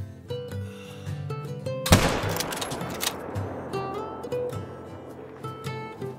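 Rifle shot at an elk in a hunting video game, a single sharp, loud report over steady music, followed by a decaying rumble and echo.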